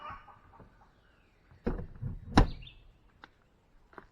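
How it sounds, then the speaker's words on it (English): A chicken squawks in a few sharp, loud outbursts amid quiet surroundings, with fainter clucks trailing afterward. "one of the chickens is squawking"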